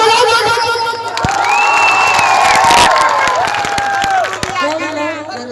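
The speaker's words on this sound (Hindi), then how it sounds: "कनी एक बार सब तो फिर से ताली बजा दे जोरदार।" A live stage-show audience cheers, whoops and shouts loudly and steadily, with scattered clapping and children's voices in the crowd, filling the whole stretch.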